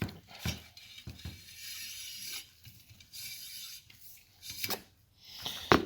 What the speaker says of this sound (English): shove that guy in there and really make sure to scrape down that barrel